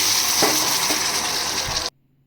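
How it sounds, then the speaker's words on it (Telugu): Sambar tempering (popu) crackles and sizzles loudly in hot oil, a steady bright hiss with a few sharper pops, ending abruptly after about two seconds into silence. "ఇలా సౌండ్ వస్తేనే పర్ఫెక్ట్ సాంబార్కి పోపు అనమాట"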